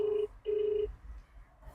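Outgoing phone call ringing back to a truck driver in Bengaluru, two steady electronic ringback tones, the second longer, heard close and clear with a quiet pause after.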